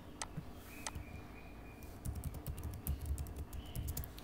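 Typing on a computer keyboard while text is entered for a title in Filmora X video editing software, with quiet scattered keystrokes at first, then a denser run of clicky taps in the second half, close and alone.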